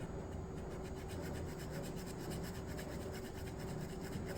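Pencil shading strokes on paper for a tattoo sketch, drawn at an angle with steady pressure, make a continuous soft rasping rub, close and quiet, with no talking.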